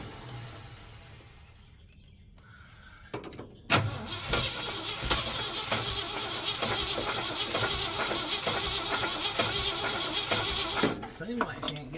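A car engine fitted with a Crane Cam electronic ignition cranks over in a steady, rhythmic churn for several seconds at close range, then stops, after a quieter stretch of background noise.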